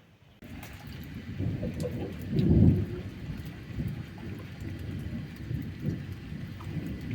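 A night thunderstorm with steady rain falling and a deep roll of thunder swelling up midway, the downpour continuing as a constant hiss around it, fairly distant and subdued.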